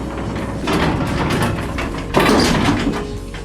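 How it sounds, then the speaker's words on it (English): A garage door opens with a loud, close, continuous rumbling slide that surges into a heavier grinding roll about two-thirds of the way through, with no speech. "I'll open the garage door a bit"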